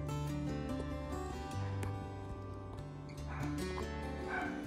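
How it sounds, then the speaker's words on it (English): Dogs bark and yip repeatedly indoors near a kitchen, the barks overlapping over steady background music, with a few higher whimpering yips near the end. "sorry for the dogs barking"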